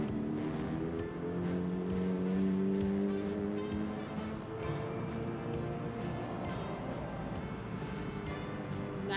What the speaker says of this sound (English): And we'll listen to the engine startup.